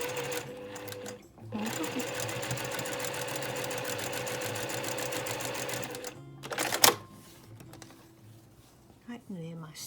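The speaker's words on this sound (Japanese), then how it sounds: "3ミリぐらいで端ミシンかけておくといいですね" A sewing machine edge-stitches patchwork pieces for a flying geese block, running in a steady fast mechanical chatter for several seconds, pausing briefly, then stopping with a few clicks while someone speaks quietly.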